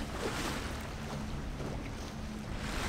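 Fishing boat engine droning steadily over rushing wind and splashing water, a loud continuous roar as the hull pushes through choppy, whitecapped waves.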